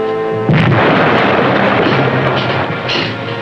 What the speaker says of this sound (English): Two hits, number 1 and 4 torpedoes.